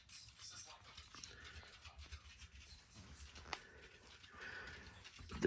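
A dog named Perry pants softly inside a static caravan at Rockley Park, a faint, steady rhythm of quick breaths over low background murmur.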